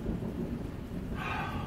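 Steady heavy rain pours during a nighttime thunderstorm near Pleidelsheim, with a low rumble of thunder underneath and a hiss of downpour that rises toward the end.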